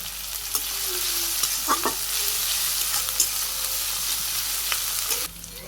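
Garlic and ginger fry lightly in a pan in a Bangladeshi village kitchen, a loud, even sizzle with occasional scraping stirs, cutting off abruptly near the end.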